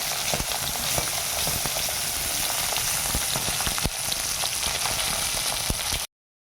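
Freshly caught paddy-field fish fries in a pan with a loud, steady, close sizzle and crackle, with no talking, before cutting off into silence.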